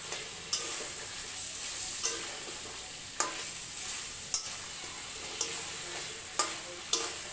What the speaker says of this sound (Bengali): আমি একটু মাংস আস্তে এখন কষাচ্ছি।